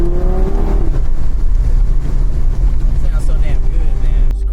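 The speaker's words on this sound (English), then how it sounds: "Let me get y'all a little sound clip of the Audi" An Audi TT RS engine, tuned for over 600 hp, idles loudly and revs up, its throaty rumble rising and holding steady close by.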